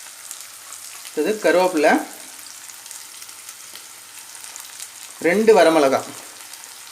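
Small shallots and crushed garlic cloves fry in a pan with a soft, steady sizzle that continues in the background while someone speaks briefly twice.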